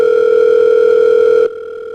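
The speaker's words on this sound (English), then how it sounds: "Just interrupted by phone calls." A steady telephone dial tone hums loudly and continuously, then drops to a softer, thinner tone for the last half second, suggesting a phone call interrupting.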